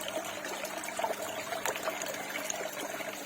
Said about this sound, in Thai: โอ้บิดน้ำกระจายเลย